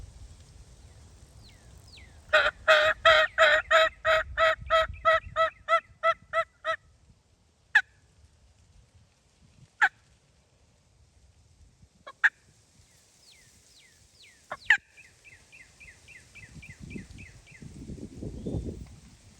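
A wild turkey gobbles loudly in a rapid rattling burst, followed by a few sharp isolated calls and a second, fainter gobble, outdoors with quiet rustling.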